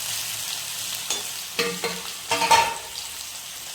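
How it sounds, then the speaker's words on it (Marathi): Sweet potato and jaggery are sautéed in ghee with a low sizzle. Several close scraping stirs of a spatula against the pan come in short bursts. "आता हे छान परतून घेऊया आपण तुपात."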